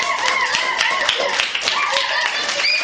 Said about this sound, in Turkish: Alkışın.